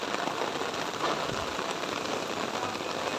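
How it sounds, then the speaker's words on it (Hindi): Heavy rain pours down in a dense, steady hiss, loud and unbroken throughout, with no voices. "बहुत ही ज़्यादा तेज़ बारिश है"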